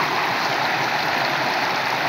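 A river rushes steadily beside a hut, a constant broadband wash of flowing water that stays close and even throughout with no voices.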